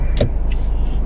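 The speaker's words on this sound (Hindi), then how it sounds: "पीछे की गाड़ी निकल जाए तो मैं आगे की तरफ आता हूँ" A car swishes past on a road in Brampton, Canada, a brief close whoosh with a short sharp burst, heard from inside a vehicle with steady engine rumble underneath.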